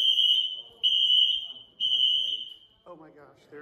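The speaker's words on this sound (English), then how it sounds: "That alarm was going off for like 10 minutes." An apartment building fire alarm blares in three long high-pitched beeps with short gaps between them, close and loud, and then a voice speaks as it stops.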